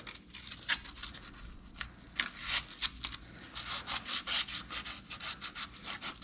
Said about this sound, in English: a little bit of sandpaper to clean up this hub a little bit